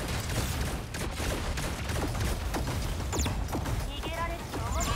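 Mecha weapons fire in the Super Mecha Champion video game as rapid, crackling bursts with mechanical clanks, continuous over a dense game soundscape.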